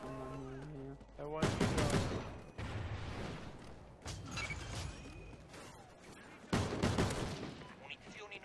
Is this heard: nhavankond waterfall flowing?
no